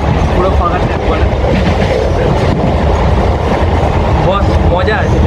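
A local train runs on its tracks, a loud continuous rumble with rattling, clattering wheel noise heard from inside a coach, with indistinct voices underneath.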